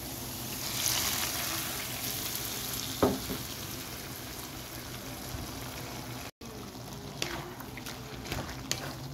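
Hot spice tempering with bay leaf poured over mixed vegetables, a continuous close sizzle with a few stirring knocks and a brief dropout partway through, no voices.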